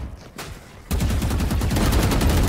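Rapid automatic gunfire from a tactical shooter video game, a dense burst of loud, close shots that starts abruptly after a brief quieter moment and continues steadily to the end.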